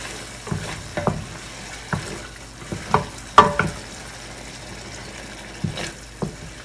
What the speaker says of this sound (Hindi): अब हम अच्छे से पकाएंगे, इसके अंदर पानी जो है वो इनका अच्छे से खुश्क हो जाएगा, हमारे पास मसाला बच जाएगा